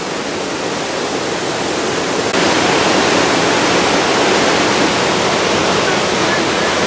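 Pailón del Diablo waterfall roars as a loud, dense, unbroken rush of falling water close by, growing even stronger partway through.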